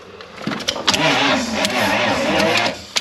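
A bus engine is cranked over by the starter without catching, a loud, close, laboured churning with clicks at the start and end of the attempt.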